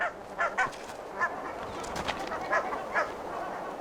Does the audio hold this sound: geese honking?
yes